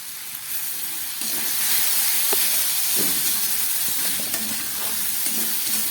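Ash gourd fries in a pan with spices and ginger, a steady loud sizzle and hiss with occasional stirring clatters, close up with no talk.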